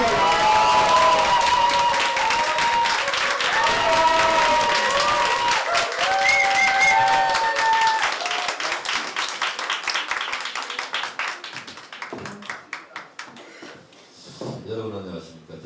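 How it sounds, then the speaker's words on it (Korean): An audience at a public broadcast claps loudly and steadily, the dense applause gradually thinning into scattered individual claps before fading, with talk in the background. "박수."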